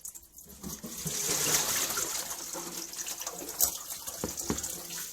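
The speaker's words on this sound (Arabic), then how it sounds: "اغسلها قدامكم بالمية كده لحد ما تبقى المية بتاعتها زي الفل" Chopped spinach leaves with green coriander are rinsed under running tap water in a sink, with a steady close gush and splashing, swishing bursts as the leaves are stirred.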